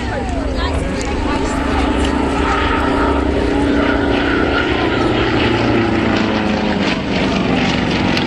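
Red Bull Matadors propeller aerobatic planes flying in formation at the Biggin Hill airshow, a loud steady engine and propeller drone sustained throughout without a break.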